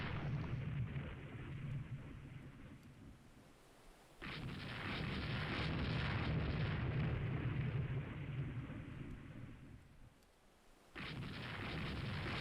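Naval gunfire and explosions aboard a warship in the Rule the Waves 2 naval strategy game: long, roaring rumbling blasts that cut out briefly and then resume, loud and sustained with no talking.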